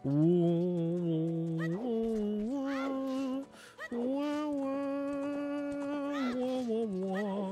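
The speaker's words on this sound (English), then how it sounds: "Wow, these horses are huge." Horses whinny and their hooves clop in The Legend of Zelda: Ocarina of Time Master Quest, drawn-out neighing calls and steady hoof sounds running continuously over the game's tonal background.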